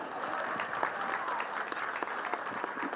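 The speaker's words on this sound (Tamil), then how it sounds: "கைத்தட்டி உற்சாகப்படுத்துங்க." A large crowd at a stadium in Puducherry claps steadily for hundreds of students spinning silambam staffs in a record attempt, a continuous, fairly distant wash of applause.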